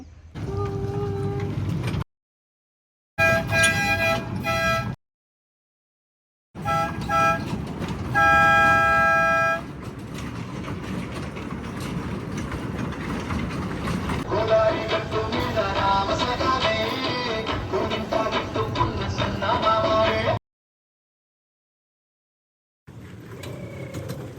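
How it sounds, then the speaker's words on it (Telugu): A passing train in Kadapa rumbles loudly while its horn sounds in several sustained toots, broken up by abrupt silent gaps where the recording cuts. "ట్రైను"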